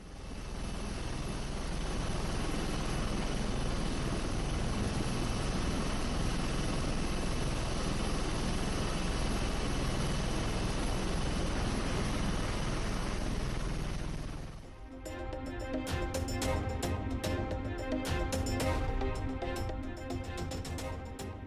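Helicopters on rescue flights after a landslide in Wayanad, Kerala, a constant heavy engine and rotor drone that cuts abruptly partway through into a different, more broken mechanical rumble.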